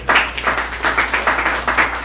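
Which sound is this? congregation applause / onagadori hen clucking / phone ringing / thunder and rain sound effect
congregation applause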